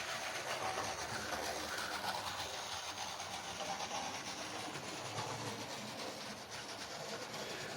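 A model Great Western two-cylinder locomotive, Lydham Manor, runs steadily with a continuous rumbling rail clatter and faint hiss at moderate, even loudness, with no voices.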